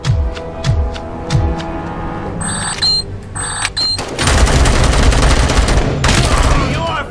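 Gunfire in the video game Robocop: Rogue City: a few spaced single shots, then alarm-like tones and a loud sustained burst of rapid fire near the end, with a voice speaking at times.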